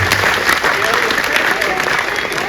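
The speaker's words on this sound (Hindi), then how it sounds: "दोनों हाथ उठाकर ताली बजाएं" An audience at a Hindi comic poetry gathering claps with both hands raised, producing dense, steady applause across the whole stretch, with talk mixed in underneath.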